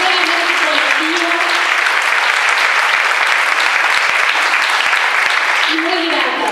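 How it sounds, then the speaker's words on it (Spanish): Sustained, close, heavy clapping from a seated audience at an event on Dora Barrancos's feminist trajectory, steady throughout with faint voices mixed in. "Pido un aplauso para ella."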